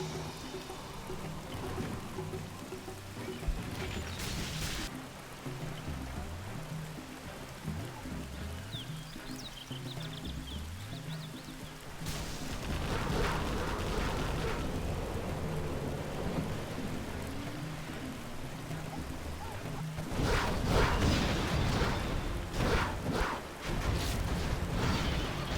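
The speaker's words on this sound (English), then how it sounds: "A little bit of thunder sounds." Rolling thunder with a steady rain-like wash plays through a real-time strategy battle on the Winding River map, USA against GLA, rumbling low and loud with heavier bursts near the end.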